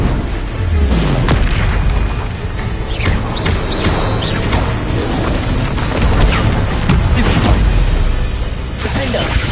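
Confringo blasting spells erupt in repeated loud booms and crashes during Hogwarts Legacy combat, dense and continuous with layered debris-like bursts over steady background effects and shouted spell voices.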